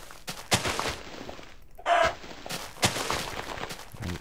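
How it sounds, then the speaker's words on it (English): A Minecraft chicken clucks in a few short, loud bursts, with quieter scuffing game sounds between the calls and no speech. "What's up, chicken?"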